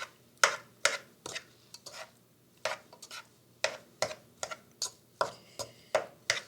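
A utensil chops boiled eggs inside a pan for potato salad, knocking against the bottom in a steady series of sharp, close taps, about two per second, with no talking.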